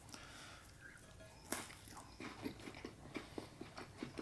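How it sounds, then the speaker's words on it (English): Crunchy bites into a buttery cracker topped with soft, moist Asadero fresh cheese, followed by a steady run of close, rhythmic chewing crunches. "So I'm going to go ahead and try this on a few crackers."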